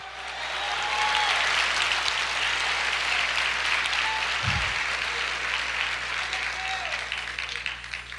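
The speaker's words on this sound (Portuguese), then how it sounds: "Aplauda o Senhor, diga aleluia!" A church congregation breaks into sustained applause and cheering, loud and dense for several seconds, with a brief low thump partway through and faint voices mixed into the crowd noise.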